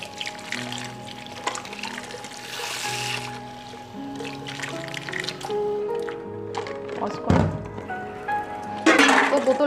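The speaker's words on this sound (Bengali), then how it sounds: "তো বোতলগুলো আমি ভালো করে জল দিয়ে ধুয়ে নিয়েছি।" Water runs and splashes while baby feeding bottles are rinsed, with hollow plastic thunks and knocks scattered across the clip and a burst of louder splashing near the end.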